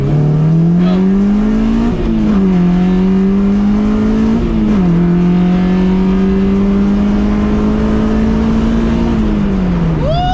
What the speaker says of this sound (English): We're gonna do a second gear pull.